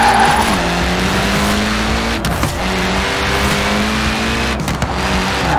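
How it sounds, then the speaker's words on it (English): A car in Forza Horizon 4 drifts with its tyres squealing hard over a steady, droning engine, loud and continuous throughout with no pauses. "Now let's really shred those tyres"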